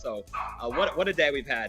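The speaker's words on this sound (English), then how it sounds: "Apologize for the dog." An excited dog yips and whimpers in a home setting during a live broadcast, its short high barks mixing with someone talking over it, both close and loud.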